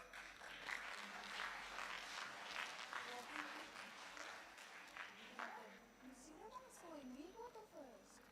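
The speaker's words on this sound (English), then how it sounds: "please welcome ma'am with a round of applause" A school audience at a primary section literary fest claps to welcome a speaker, a moderate patter of applause mixed with children's voices and chatter, fading toward the end as a few voices stand out.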